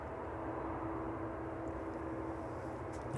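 Steady broadband roar of aircraft at East Midlands Airport on an evening, a continuous engine drone heard from a distance without any voices.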